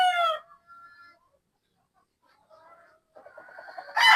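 A Possum bloodline gamefowl rooster, a street breed, crows loudly up close in short bursts, with soft clucking between calls and a sharp crow cutting in at the end.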